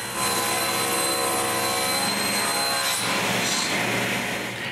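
A power saw cuts a sheet of plywood in two in a woodworking shop, giving a loud, continuous whine and rasp up close that holds steady throughout.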